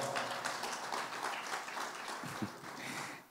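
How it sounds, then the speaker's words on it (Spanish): An audience at a church celebration applauds, a dense wash of clapping that stays steady and fairly loud before easing off slightly at the end. "Démosle un fuerte aplauso"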